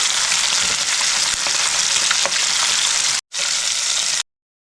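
Rui fish pieces frying in a pan, a dense, loud, steady sizzle with faint crackles throughout that cuts out briefly near the end before stopping.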